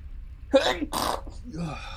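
A single sharp sneeze up close, a quick intake then an explosive burst, followed by a faint breathy exhale, in the video game Resident Evil remake.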